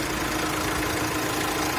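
A Renault Master van engine with 152,000 km idles close by, a continuous low rumble with even mechanical vibration and no voices.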